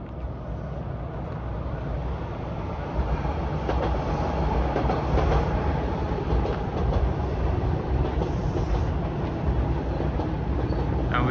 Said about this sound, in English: I can hear another train coming